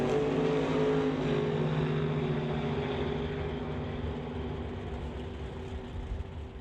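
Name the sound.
1953 Corvette doorslammer drag car making a pass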